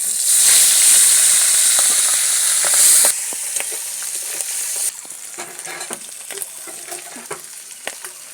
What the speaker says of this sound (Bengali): মাছের তেলটা দিয়ে দিচ্ছি